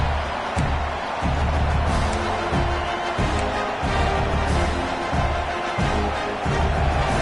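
A football stadium crowd roars loud and steady throughout, a dense sustained wall of noise with rhythmic low thumps and surges as fans try to rattle the offense.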